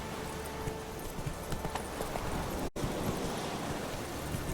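Hooves of Roach the horse clip-clopping at a steady trot in The Witcher 3, with a continuous wind and ambient wash over the whole stretch and one brief dropout midway.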